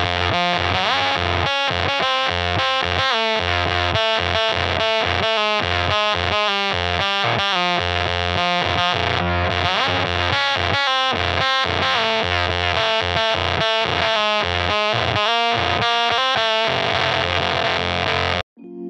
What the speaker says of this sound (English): Its distinctive sound separates it from literally every other fuzz pedal I've ever played before.